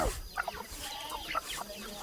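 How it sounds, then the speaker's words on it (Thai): Several chickens cluck close by in a rural yard, short scattered calls repeating irregularly over light background noise, with little talking. "ไก่กำลังมา"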